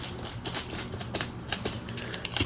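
A sticky tape ring pats down a felt hat: rapid, dry papery taps and crinkles repeat in quick irregular succession, close and fairly loud throughout.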